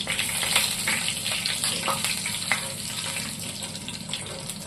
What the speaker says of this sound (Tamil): ஜீரகமும் சோம்பும் எண்ணெயில் நல்லா பொரிஞ்சிருச்சு